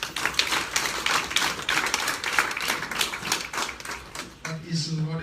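A small group applauds at a press conference, with crisp, closely spaced hand claps forming a steady crackle that trails off near the end as a voice begins.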